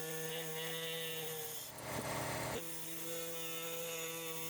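A power tool cuts through the driveshaft carrier frame of a Mercedes-Benz A35, a steady high-pitched whine that rises into a harsher, louder cutting burst midway and then settles back to a running hum.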